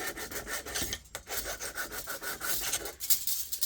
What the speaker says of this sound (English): Filing it down now just to get any burrs off the edge there.